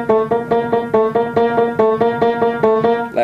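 Right-hand piano melody from a theme, a steady run of evenly spaced struck notes with bright harmonics, close and clear, played alone without talk.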